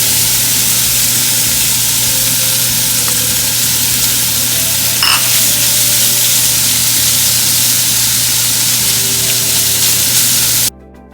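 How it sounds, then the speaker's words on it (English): Bacon frying in a pan, a loud, steady hiss and crackle with a brief spatter midway, cutting off abruptly at the end. "I'm going to cook the bacon"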